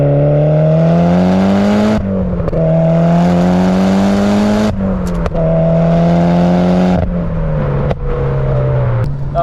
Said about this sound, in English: So give it a little third gear pull.